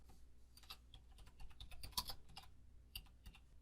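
Computer keyboard typing in quiet surroundings, a few irregular bursts of key clicks with short pauses and one sharper, louder keystroke near the middle, all close and fairly soft.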